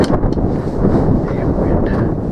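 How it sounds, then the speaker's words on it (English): Gusty wind buffets an outdoor microphone at a muzzleloader rifle session, a steady low roar filling the whole stretch with no speech. "Damn wind."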